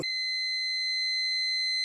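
A multimeter's continuity buzzer sounds a steady, high-pitched electronic tone continuously, clear and unbroken, with no other noise around it.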